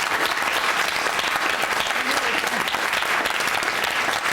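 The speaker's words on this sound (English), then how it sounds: "give yourselves a round of applause" Audience applause fills a room at a debate on race, a dense, steady wash of clapping that stays loud and unbroken throughout with no voices rising above it.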